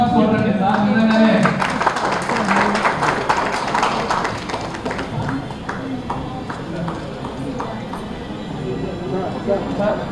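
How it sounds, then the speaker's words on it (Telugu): An audience at a civic felicitation event in Kadapa claps in a burst of applause, loudest at the start and tapering into scattered clapping, with talk from a speaker over it. "ఒకసారి బిగ్ క్లాప్స్ కొట్టండి సార్"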